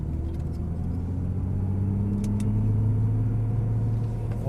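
A Nissan GT-R in manual first gear idles and rolls slowly forward, giving a low steady engine rumble with a faint tonal drone and a couple of light clicks, close and continuous.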